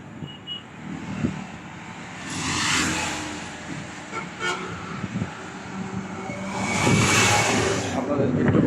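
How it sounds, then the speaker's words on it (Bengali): Morning street traffic beside a city road, with vehicles rushing past in swelling whooshes, one loud pass near the end, steady road rumble and brief horn toots underneath, no clear talking. "কত স্পিডে গাড়ি ঘোড়া চলতেছে।"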